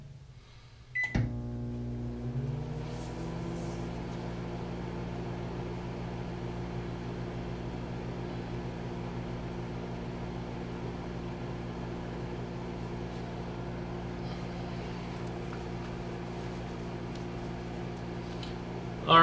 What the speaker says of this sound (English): we're gonna pop this back in the microwave